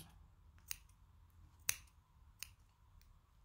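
Scissors snip yarn while finishing a knitted graduation cap: three sharp, isolated cuts spaced about a second apart, close by and crisp against a quiet background.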